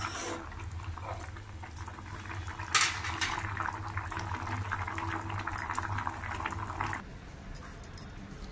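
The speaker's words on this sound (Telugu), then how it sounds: "మెంతికూర పులుసు బాగా మరుగుతోంది" Fenugreek leaf stew seasoned with asafoetida bubbling steadily in a pot, a continuous close simmering hiss with a brief louder burst near the start and faint clinks toward the end.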